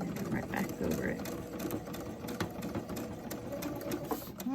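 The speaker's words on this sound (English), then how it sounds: "I'm going to go ahead and just back stitch over that" An old sewing machine back stitches over a seam on a fitted fabric face mask, running in a steady continuous whir for several seconds with a faint voice underneath.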